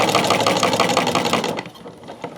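A Davis VF treadle-style sewing machine runs fast, a rapid even chatter of stitching for about a second and a half before it slows and fades, close and fairly loud with no talking.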